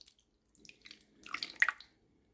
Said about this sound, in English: So I'm just going to pour this over the top.